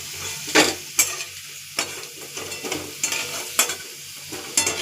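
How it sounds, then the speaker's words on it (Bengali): Potatoes frying in hot oil in a pan for a Bengali pointed gourd pakoda curry, with a steady sizzle and sharp scraping stirs every second or so, close up and with no talking. "ভালো করে আলুটাকে তেলের মধ্যেই ভেজে নিতে হবে, একদম যেন সিদ্ধ হয়ে যায়।"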